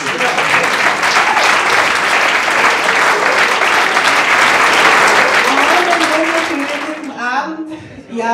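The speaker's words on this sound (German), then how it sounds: "Bitte einen großen Applaus." A crowd applauds at a farmers' ball in Bad Kreuznach, sustained loud clapping and cheering that fades out near the end as a voice begins to speak.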